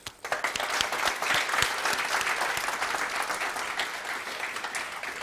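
Loud, sustained clapping from an audience at a startup demo day in Abu Dhabi, opening with a few sharp claps and swelling quickly into a thick, steady wash that eases slightly toward the end.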